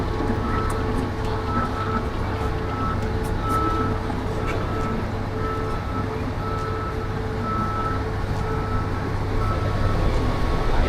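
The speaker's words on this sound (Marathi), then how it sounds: "कोरल्यावर आपली ट्रेन अशीच स्लो जाणार आहे." A Mumbai local train on the Govandi to CSMT run rolls slowly, giving a loud, steady low rumble with a constant hum throughout.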